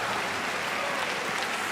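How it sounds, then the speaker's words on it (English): Generous applause from spectators following a rally at a badminton men's doubles final, a steady dense clatter of clapping filling the whole moment without any voices. "Generous applause for another terrifically watchable rally."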